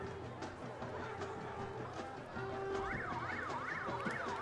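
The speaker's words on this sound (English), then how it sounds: "I think that was a horn, but it's more of a siren over here in Liberty" Wailing siren sounded as a horn at a high school football game in Liberty, rising and falling in a steady repeating sweep over crowd noise and commentary that continue beneath it.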